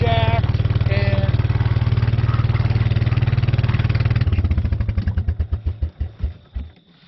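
An old 1980s or 1990s Club Car golf cart with a worn-out clutch and four flat tires runs with a steady, loud, rapid chugging. Toward the end it slows into uneven, widely spaced putters.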